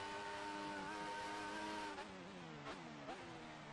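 Racing car engine held at full throttle in a Formula-style racing game at Austria, a sustained high whining drone with small pitch dips as it shifts, steady and loud.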